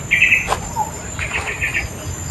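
Outdoors, bird calls come in short high chirps and brief trills over a steady insect-like buzz and low background rumble, with no talking.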